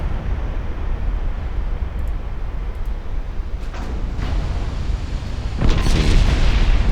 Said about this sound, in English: King Edward has taken one torpedo hit